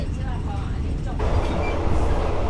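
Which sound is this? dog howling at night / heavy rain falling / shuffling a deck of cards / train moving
train moving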